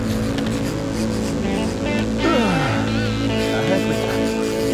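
A boat engine rising in pitch as the throttle opens on an offshore fishing trip, a steady loud drone that climbs and sweeps upward, with excited voices talking over it.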